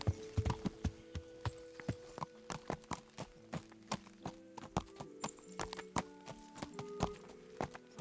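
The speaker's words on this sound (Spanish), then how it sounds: "Vale, voy a dejar mi caballo aquí." Horse hooves clip-clop in Kingdom Come: Deliverance, a steady walking rhythm of sharp, close hoof strikes repeating for several seconds over a low ambient background.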